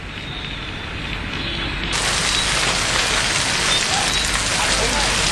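Heavy rain pours down in Delhi as a loud, dense, steady hiss that swells partway through, with a news voice speaking under it.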